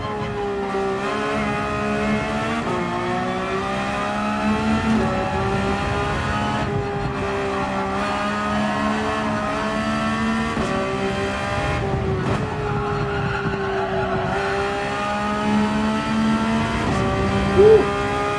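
Race car engine under throttle in a racing game at Barcelona, a loud sustained high-revving whine rising and dropping through gear shifts across the whole stretch, with brief lifts and tire squeal near the end.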